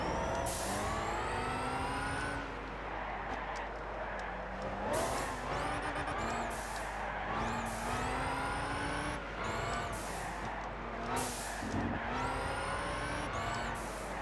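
A Bugatti Veyron in the Gran Turismo 6 video game roars around Willow Springs, its engine revving up and down through repeated gear shifts, loud and continuous with rising pitch sweeps, heard alone without talk.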